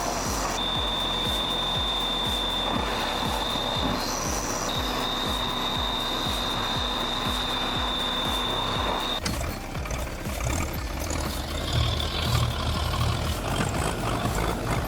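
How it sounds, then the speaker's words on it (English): A Timberjack 530B knuckle boom feeds bundles of wood into a chipper, a dense, steady machinery roar with a high whine and a rapid ratcheting, clattering rhythm that grows rougher and busier partway through. "A Timberjack 530B knuckle boom is grabbing bundles of wood and feeding them into a hungry chipper ahead."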